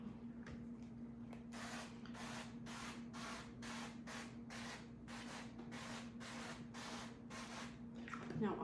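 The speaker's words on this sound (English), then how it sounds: "So we're just going to give them a spray." Cooking spray hisses onto silicone muffin cups in a run of about ten short, close bursts at a steady rhythm, over a low constant hum.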